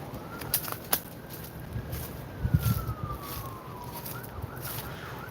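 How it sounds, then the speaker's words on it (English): An ambulance siren passing near a wooded area close to a hospital wails faintly in the distance as a long, rising and falling tone, beneath rustling footsteps and outdoor ambient noise. "If you hear the police going by, actually that's probably an ambulance because there's a hospital"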